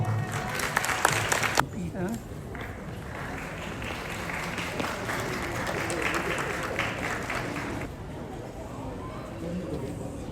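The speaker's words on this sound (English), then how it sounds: "Please give a round of applause for William Wong." Applause rises from the audience at a Lunar New Year celebration in Queens, New York. It is a steady spread of clapping from a sizable crowd at moderate loudness, with an announcer's voice briefly heard over it at the start.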